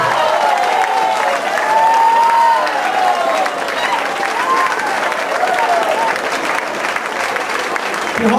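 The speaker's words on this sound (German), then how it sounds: "Applaus" An audience applauds steadily after a show, with dense sustained clapping and some cheering throughout, loud and full.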